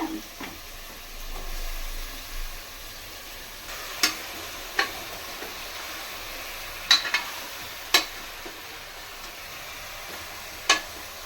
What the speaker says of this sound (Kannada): ಇವಾಗ ಇಷ್ಟೆಲ್ಲ ಫ್ರೈ ಆಗ್ತಾ ಇರಲಿ